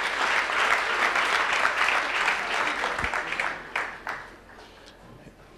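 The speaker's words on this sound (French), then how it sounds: "Acclamons pour l'encourager, comme ça il a la force." A church congregation applauds to encourage a child during a pastor's jubilee service, a dense, steady round of clapping that thins out and fades after a few seconds.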